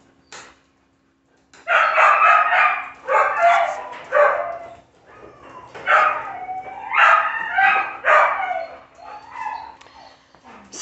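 Several dogs play inside a kennel, barking and whimpering in a busy, continuous run of excited yelps at close range, with a rooster crowing faintly somewhere behind them.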